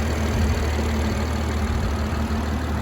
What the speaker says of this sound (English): Very quiet idle, not too ticky from the injectors.